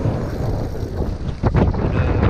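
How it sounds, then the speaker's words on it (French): Strong wind buffeting and roaring close by during a gravel bike ride, a continuous rumbling gust that swells louder near the end. "il y a le retour du vent là"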